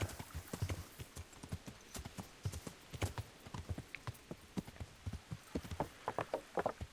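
Horse hooves clip-clopping steadily in the medieval game Kingdom Come Deliverance, a close, even rhythm of hoof strikes running throughout with no talk over them.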